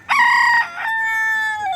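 A chicken in Tenerife lets out a loud, close call: a short clucking burst followed by a long, drawn-out crowing note that trails off, heard alone.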